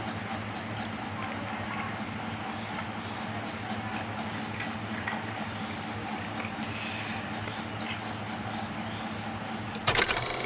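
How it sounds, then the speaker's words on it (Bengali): Water poured into glass bowls while preparing water-filled diyas for Diwali, a continuous splashing and trickling that holds steady throughout, with a sharp clatter just before the end. "আমি দুটো বাটি নিয়ে নিলাম এখন আমি বাটিতে দিয়ে দিব জল"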